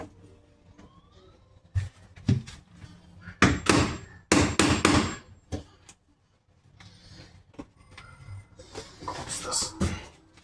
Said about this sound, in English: pass me the hammer